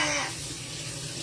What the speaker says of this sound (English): oh, I got my water on.